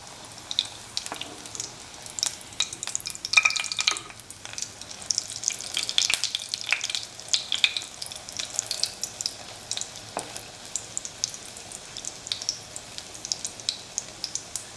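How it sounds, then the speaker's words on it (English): Pieces of bread coated in scrambled egg fry in a hot pan with a steady crackling sizzle and scattered pops, with some stirring and turning sounds and no talk. "And fry it as we fried earlier"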